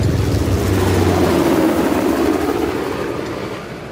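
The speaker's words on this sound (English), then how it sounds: "How the hell did Asav get that helicopter?" A helicopter in the video game Uncharted: The Lost Legacy, a steady, loud low-pitched rotor drone that holds and then slowly tapers off, with no voices.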